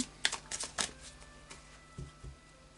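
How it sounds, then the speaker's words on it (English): Quick riffling shuffles of tarot cards, a few short crisp bursts close by, followed by softer handling sounds and light taps. "it's just final shuffles on camera for you"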